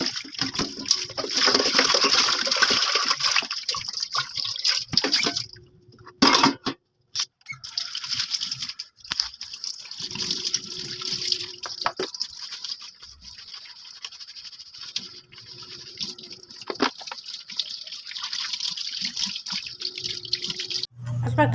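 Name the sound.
washing air fryer parts under running tap water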